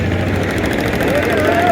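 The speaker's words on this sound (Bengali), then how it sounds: "আমাদের ট্রলারটি কিন্তু যাত্রীতে পরিপূর্ণ এবং ঘাট ত্যাগ করছে" A passenger trawler crowded with riders leaves the ghat near Barishal, heading for Charmonai, its engine giving a loud, steady, close drone with a low humming tone throughout.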